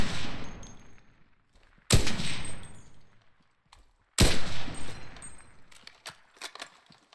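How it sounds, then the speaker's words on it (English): A sniper rifle in a video game fires two loud, sharp shots about two seconds apart, each decaying slowly, followed by fainter scattered clicks and distant shots. "it's the slowest firing sniper in the entire game"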